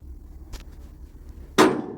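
A hammer strikes a pipe on a steam locomotive header during scrapping, a faint early tap followed by one sharp, loud metallic clang that rings briefly, alone.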